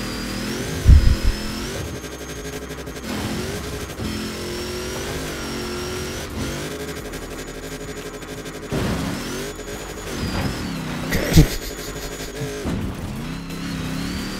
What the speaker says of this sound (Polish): Dobrze jednak, że wziąłem napęd na 4 koła do tego auta.